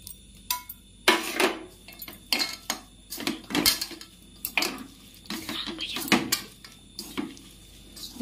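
Chopped onion, chilli, ginger-garlic paste, turmeric, salt and spice seasoning are mixed by hand in a metal bowl for a pitha, giving irregular close squelches and clinks against the bowl, a faint voice in the background.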